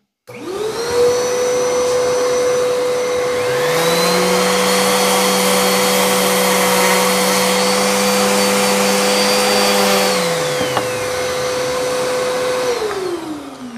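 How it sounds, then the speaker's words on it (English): A DeWalt random orbital sander hooked to a Dust Stopper dust collection cart runs loud and steady for about twelve seconds, a constant motor whine with a second tone joining partway, then winding down at the end; no talking. "I've got my random orbital sander here from Dewalt and my wonderful dust stopper, dust collection cart all hooked up."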